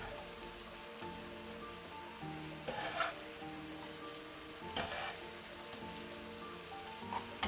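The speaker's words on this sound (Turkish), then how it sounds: "2 dakika kavuruyorum." Peppers sautéed together with their seeds sizzle steadily in a hot pan, a continuous crackling hiss with brief louder stirring bursts near 3 and 5 seconds, close and with no talking.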